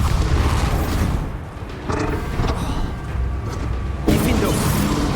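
A Bombarda explosion spell cast in Hogwarts Legacy bursts with a loud boom amid dense game effects, followed by a second sharp blast toward the end.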